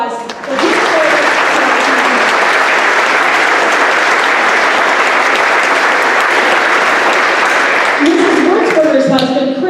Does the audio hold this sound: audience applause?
yes